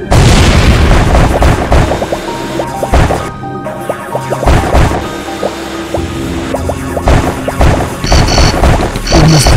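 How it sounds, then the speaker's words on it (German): Repeated booming bomb blasts and crashes erupt in quick succession, loud and punchy, layered over a busy Wall World soundtrack with sharp pops and impacts. "Ja, kannst hier unten explodieren"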